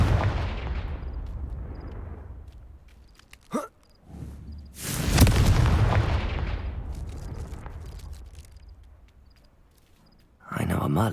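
The Confringo spell goes off as an explosion in Hogwarts Legacy, heard as a loud blast with a long fading roar after it. A voice is heard earlier, and a sharp burst comes near the end.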